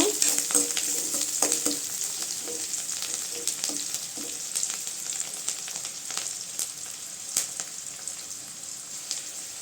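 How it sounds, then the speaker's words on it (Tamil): Onions sautéing in a pan hiss in a constant bright sizzle, with scattered clicks and scrapes from stirring, close and steady throughout with no voices. "வெங்காயம்லாம் நல்லா செவந்து வரட்டுங்க"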